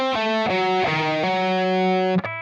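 Distorted electric guitar plays a short solo phrase: a few picked and hammered notes, sustained and close, ending on a lower note.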